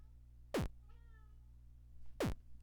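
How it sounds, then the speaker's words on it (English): An indoor cat gives odd, strange-sounding meows, two short separate calls close by in a quiet room with faint hum behind them. "He's like meowing really weird, like he's checking the acoustics in the room."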